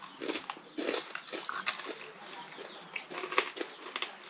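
Crunchy cooked frog leg bitten and chewed in a rural village in Ilam, Nepal, giving a series of close, crisp crackling crunches in irregular bursts over about four seconds, with no talk.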